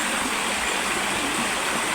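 River water rushing over rocks and flood-carried debris on the Lipit River, a close, loud, unbroken roar without speech.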